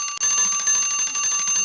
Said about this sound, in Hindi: चूंकि इलेक्ट्रिक बेल का सर्किट पूरा है, इसलिए बेल की जोरदार आवाज बार बार सुनाई देती है।